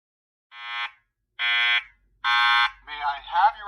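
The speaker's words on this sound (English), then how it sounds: "There has been a fire alarm reported in the building." A building fire alarm system under test sounds three loud, evenly spaced harsh horn blasts, each under half a second, followed by a tonal electronic sweep leading into a voice announcement.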